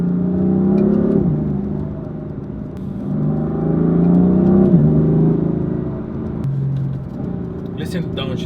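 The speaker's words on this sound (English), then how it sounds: "Did you hear the downshift?" BMW M4 engine running loud and close, with pitch sweeps and a drop near the one-second mark and again around five seconds, in keeping with downshifts as it rumbles throughout.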